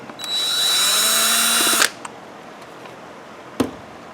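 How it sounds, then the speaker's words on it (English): A power drill runs in one steady burst of about a second and a half to back out screws holding the carburetor on an Echo SRM-231 trimmer, followed by a couple of faint clicks. "And we'll use power tools for that."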